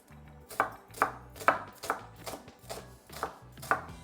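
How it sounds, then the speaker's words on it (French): A knife chops a shallot into small pieces on a board in a steady series of about seven crisp, evenly spaced strikes, close and clear with no talking. "Une fois coupé en deux et après on coupe en petits bouts."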